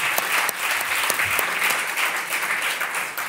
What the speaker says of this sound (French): Je vous propose donc d'applaudir Astrid Bastin à la deuxième présidence.